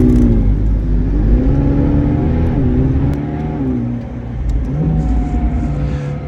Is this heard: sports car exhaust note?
yes